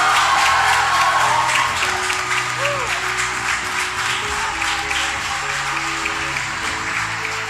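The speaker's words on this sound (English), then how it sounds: "So a roaring loud of applause for Nishant." Sustained audience applause for a NEET 2025 topper at a Sri Chaitanya success celebration, a steady dense clapping wash filling the hall with faint background voices and a brief tonal squeal mid-way.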